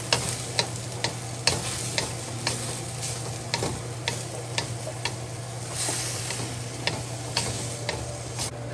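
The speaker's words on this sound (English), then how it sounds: "Stir fry." Mustard greens stir-frying in a wok with oyster sauce, a steady sizzle under sharp, regular clacks of the spatula scraping and tossing, with no one talking.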